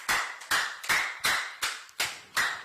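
A church congregation claps in unison to acclaim the Lord, seven sharp, evenly spaced claps at a brisk steady beat, each ringing briefly in the room.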